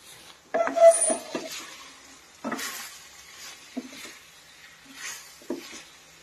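Raw potato pieces for a crispy chilli snack tumble into a hot pan and get stirred, giving scattered sizzling bursts and scraping clatters spaced a second or so apart over a quiet background.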